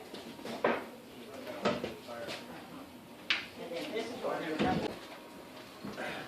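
An oven door swings shut on a tray of tomatoes set in to blister, giving a few soft clunks and knocks spread across the stretch while a person keeps talking over them.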